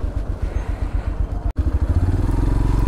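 A motorcycle near Panambur Beach on the way to Udupi runs close by, its engine throbbing in a steady pulsing rhythm that briefly cuts out and then picks up again, loud and unbroken with no voices.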